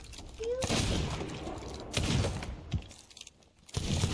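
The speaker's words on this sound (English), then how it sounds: "Shots being fired" Bursts of gunfire ring out during a TDM video game match, with a few sharp volleys separated by quieter stretches and faint voices in the background.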